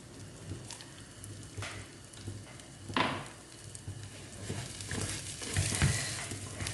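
Chicken biriyani masala being stirred in a pan, with scraping spoon strokes and soft sizzling crackle at close range, a few sharper scrapes standing out.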